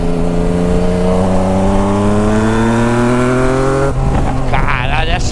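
A 2021 Yamaha Tracer GT motorcycle with a stainless steel 3-into-1 Atalla exhaust revs up steadily, its pitch climbing for several seconds before dropping off, then a voice speaks over the running motor.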